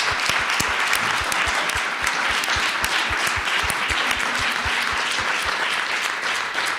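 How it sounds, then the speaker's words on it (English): Loud, sustained applause from a large audience, dense clapping that carries on steadily throughout, with no speech. "Please join me in giving a round of applause to Dr. Ann Marcuson and Betty Farrell."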